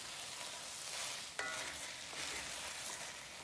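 Sliced new onions sizzle and hiss steadily in a hot pan while being stir-fried for a potage, with a brief clack of a utensil partway through.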